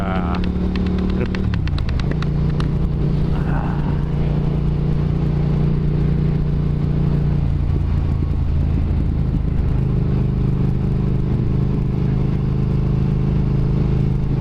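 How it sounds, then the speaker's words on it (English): A 2022 Triumph Speed Twin with a Tec exhaust rumbles loudly and steadily while being ridden, its deep engine note shifting as it changes gear early on, with wind noise mixed in. "But I do love the rumble"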